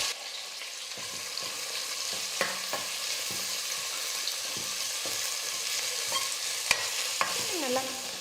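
Onions and curry leaves stir-fry in a hot pan with a steady close sizzle, broken by the clicks and scrapes of a spoon against the pan throughout.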